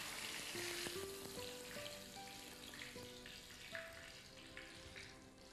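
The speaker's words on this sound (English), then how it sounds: "We let them fry for a short time on a very high heat." Cheese-filled flowers fry quickly in very hot oil, giving a dense, steady crackling sizzle with some light tones over it, faint and continuous.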